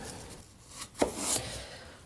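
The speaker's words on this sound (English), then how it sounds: "we're going to chop up these apples into nice strips" Knife chopping raw apples into thin strips on a cutting board, a few close, soft cuts and scrapes, with one sharper knock near the middle, no talking.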